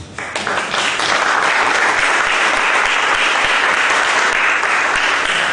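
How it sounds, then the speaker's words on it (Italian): Applause at a book festival swells quickly at the start and holds, loud, sustained clapping from a sizeable audience with no talking. "la sedia di Giancarlo Siani, al quale vorrei ricordare un applauso."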